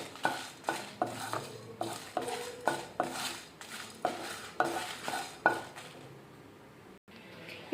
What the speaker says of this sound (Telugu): వీటిని లో మీడియంలోనే వేయించుకోవాలి.